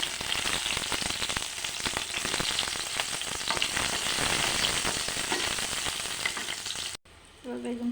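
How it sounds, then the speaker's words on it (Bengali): Eggplant slices fry in hot oil in a pan, a dense steady sizzle with crackling pops running for about seven seconds, then cutting off abruptly to a quieter moment. "এবার বেগুনটা ভেজে নেব।"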